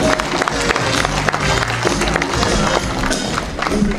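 Audience applause at a fisheries managers' gathering, a brisk, busy clatter of many hands clapping at once, sustained and fairly loud, with some crowd noise underneath.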